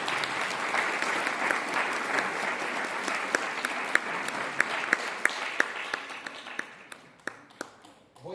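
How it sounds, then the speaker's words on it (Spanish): A church congregation claps steadily during a Spanish-language sermon. The dense, close applause runs for several seconds, then thins to scattered individual claps before fading out. "Denle un aplauso al Señor."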